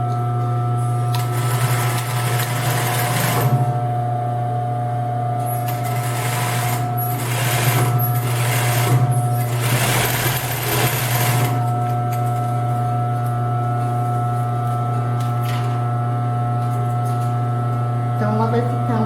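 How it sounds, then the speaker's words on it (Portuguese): A sewing machine stitches a seam on women's underwear: close, loud whirring bursts of stitching that stop and start over a steady motor hum. "eu vou deitar o overlock aqui na mesma posição que ele está já, né? E aqui, ó, nós vamos passar uma reta"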